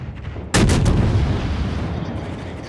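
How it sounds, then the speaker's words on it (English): Warship artillery in World of Warships fires a single loud booming salvo, a sudden blast that rolls into a long rumbling decay over a low background hum. "Right, now everybody is shooting at me."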